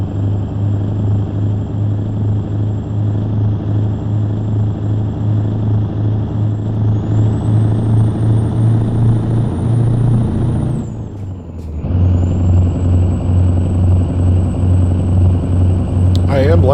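A Mack V8 E9 truck engine in American Truck Simulator drones steadily and loud at close range. Midway it breaks off with a sharp air-brake hiss and a brief dip, then the deep rumble resumes.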